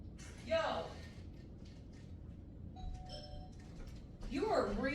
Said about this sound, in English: Freaking ringing the doorbell.